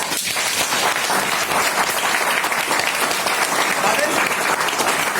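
A large seminar audience at a business meeting claps loudly and continuously, a dense, sustained burst of applause close to the recording point.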